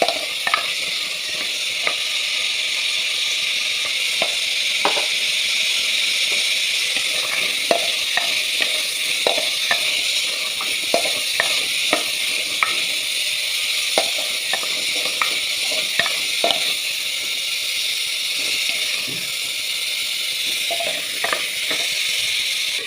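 Small shallots, green chillies and dal sauté in a pan for onion sambar, a steady close sizzle broken by frequent sharp spatula clicks and scrapes.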